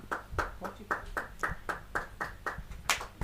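Audience at a Hindi poetry gathering (kavi sammelan) clapping in a steady, rhythmic beat, about a dozen sharp claps in unison, fairly close and moderately loud.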